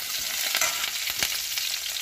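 Curry leaves and chillies fry in hot oil in an Indian pan for a ladies finger dish, giving a close, steady crackling sizzle with small pops and no talking.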